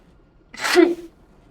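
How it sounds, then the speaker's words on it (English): A person sneezes once, a single sharp, loud burst up close, with quiet before and after. "I'm gonna sneeze."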